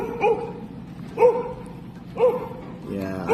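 A dog at an abandoned resort barks in sharp, repeated yelps at roughly one-second intervals, close and agitated, while people talk tensely over it.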